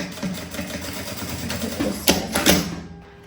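Sewing machine stitching a short stretch of fabric for a handbag, a close rapid mechanical chatter that speeds up and stops, with a couple of sharper knocks near the end.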